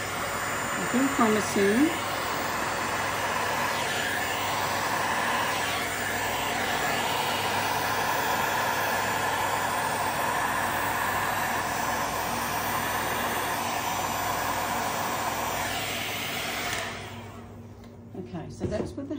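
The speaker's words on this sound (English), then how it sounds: "I've got my heat gun. Just blowing it to see how we go with that." A heat gun blows steadily over resin with a constant loud whooshing hiss that runs for most of the stretch, then cuts off near the end; someone speaks briefly over it early on.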